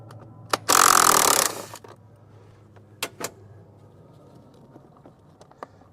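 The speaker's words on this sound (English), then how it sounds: "Just back them out till the threads are out." A power driver whirs briefly and loudly to back out T25 screws on a BMW F10 M5 blower unit, followed by scattered faint clicks and taps.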